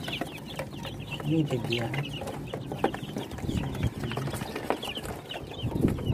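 Native chickens and young chicks cluck and chatter in a farm setting, with a busy, close mix of clucks and short calls while people talk over them.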